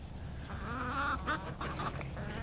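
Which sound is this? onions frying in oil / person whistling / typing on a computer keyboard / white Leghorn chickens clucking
white Leghorn chickens clucking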